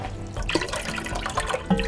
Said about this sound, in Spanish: Vamos a agregar agua para que ya se vaya calentando el